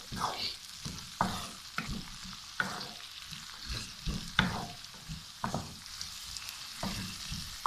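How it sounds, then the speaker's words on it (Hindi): Onions sautéing on medium heat until soft for khageena, an egg dish: a soft sizzle under repeated spatula scrapes against the pan, close by and rhythmic, with no talk. "इसको मीडियम आंच पर भूनेंगे हम सॉफ्ट होने तक।"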